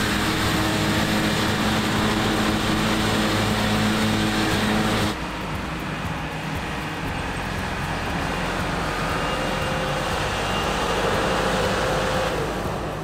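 A rotary cutter swather moves through a grass seed field at about 15 miles an hour, heard from on board as a loud, constant engine and cutting roar. The roar drops slightly in level partway through and carries on steadily.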